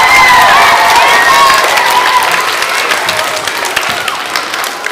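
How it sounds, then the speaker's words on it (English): Loud audience at a 2nd and 3rd grade talent show applauding and cheering, dense clapping mixed with high children's shouts and whoops, close and sustained before easing slightly. "Let's give the MCs a really great round of applause."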